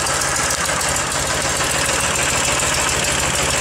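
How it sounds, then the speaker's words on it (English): An engine idles steadily after a cold start in a cool shop, a loud, even, rumbling chug with a continuous mechanical rattle and no voices. "As it continues to run, it'll smooth out and kind of steady down."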